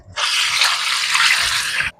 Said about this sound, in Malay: Dan tambahkan air. Tambahkan air ikut selera masing-masing.